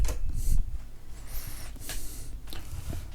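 A door swinging shut indoors, muffling a washing machine running in another room; a short burst of rustling and a soft thud, followed by low background noise.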